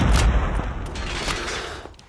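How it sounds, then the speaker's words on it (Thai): A loud, booming explosion in Call of Duty Mobile bursts at the start, then rumbles and fades over a couple of seconds. "เสียงระเบิดอะไรโคตรน่าเกลียด"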